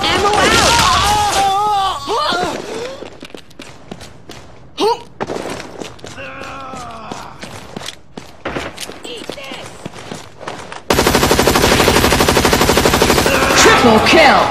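Dense gunfire and explosions fill the zombie shooter video game Hazard Ops, with rapid automatic bursts and heavy booms. A loud sustained volley comes at the end, and game voice callouts are heard over the action.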